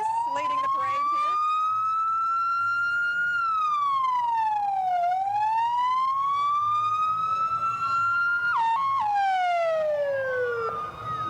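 Police car leading a street parade in Kingsport, its siren wailing loud and close, rising and falling in long sweeps, with a brief yelp burst partway through and steady crowd noise underneath.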